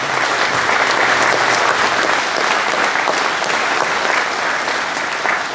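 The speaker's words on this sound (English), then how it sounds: "could we get a round of applause for our volunteers?" Sustained applause from a sizable audience, steady and loud throughout with no break.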